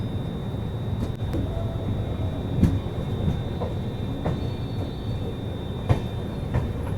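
The Azamgarh LTT Mumbai Superfast express pulls away from the platform with a steady low rumble of rolling wagons, broken by occasional sharp clanks and faint squeals.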